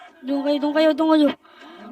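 A single long, loud Minecraft cow moo with a drawn-out tone, followed by a short, quieter low grunt.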